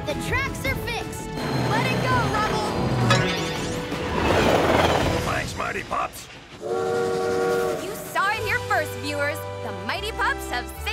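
A cartoon train rumbles along with repeated whistle and horn blasts over dramatic background music, while voices talk and shout excitedly over the sound.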